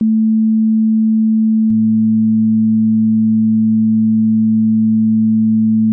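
A steady pure tone plays alone, then a second smooth tone an octave lower joins in and both hold together evenly to the end.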